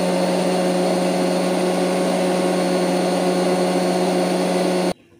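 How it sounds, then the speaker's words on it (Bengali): An electric grinder blends mustard, green chili and tomato into a paste with a loud, steady whir that cuts off abruptly near the end. "এখন এর মধ্যে এই সর্ষাটা পেস্ট করে আনছি"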